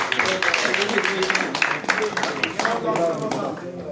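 A political gathering breaks into applause to welcome a district president, with scattered clapping heard beneath loud ongoing speech from a speaker.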